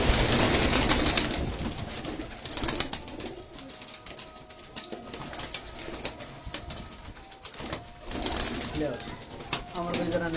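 Lakha pigeons coo close by amid occasional wing flutters, while people talk over them.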